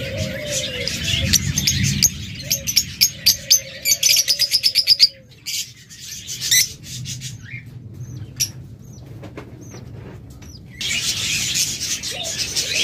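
Budgerigars and cockatiels chirp from cages in a shop, with quick bursts of bright chirps and tweets, a run of rapid repeated calls, then pauses and more chatter over a low room hum, close and fairly loud.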